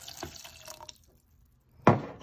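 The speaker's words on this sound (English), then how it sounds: "And we'll add a cup of water to it." A cup of water is poured into a saucepan on the stove for keto blueberry syrup. After faint kitchen clatter and a brief pause, a short, close splash of pouring water follows.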